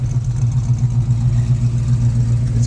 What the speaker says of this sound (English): And the exhaust sounds good even with the mufflers.